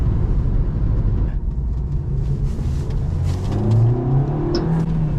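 A petrol car engine revs up loudly and close, its pitch climbing steadily as it accelerates, with a deep rumble throughout.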